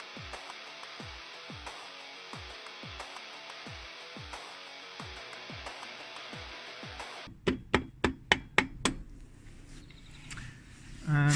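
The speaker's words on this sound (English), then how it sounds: "lightly tap it in with a rubber mallet" A rubber mallet taps a crankcase cover into place on a Yamaha V Star 650 motorcycle: soft, evenly spaced knocks at first, then a quick run of sharper, louder thuds near the end.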